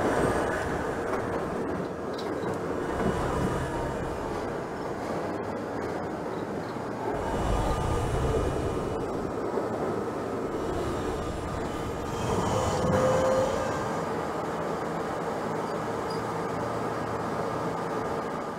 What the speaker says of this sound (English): This is a Manhattan-bound J train.